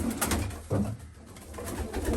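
Racing pigeons in a breeding loft give soft, low repeated coos, several rolling calls close by across the clip with no talk over them.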